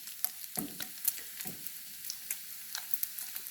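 Bacon fries in its own rendered fat with a soft, steady crackle and scattered pops, close and moderately quiet, with a few light scrapes and no talk.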